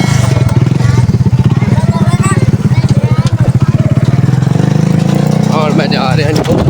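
A motorcycle being wheeled out and running in a village, its engine chugging loudly and close with a steady pulsing throb while people talk over it.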